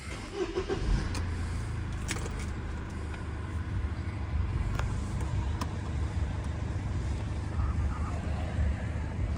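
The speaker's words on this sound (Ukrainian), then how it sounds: "Заведемо автомобіль." A 2003 Mercedes-Benz E 220 engine runs at a steady low idle, a deep constant rumble close by with some wind buffeting.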